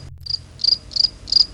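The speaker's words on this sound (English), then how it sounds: "Crickets." Four short, even cricket chirps pulse in a steady rhythm over a low background hum, close and clear, inserted as a comic silence effect with no one talking.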